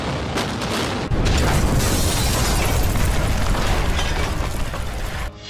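A massive explosion from a tower demolition using 3,700 kg of explosives roars into a deep, sustained rumble that fills several seconds, loud and unbroken like a collapsing structure.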